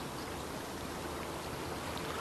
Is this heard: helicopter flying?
no